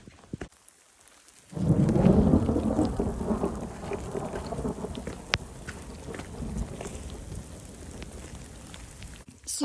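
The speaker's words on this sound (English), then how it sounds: "that was a little terrifying because there's lightning striking everywhere" A thunderstorm sweeps over a hiking trail with lightning striking nearby: a deep rumble of thunder swells in after a quiet moment, then heavy rain hisses and patters steadily on surfaces with sharp drop impacts, close and loud.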